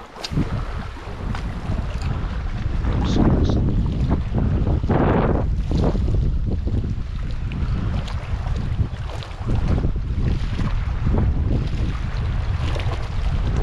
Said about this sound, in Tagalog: Mahangin pa ngayon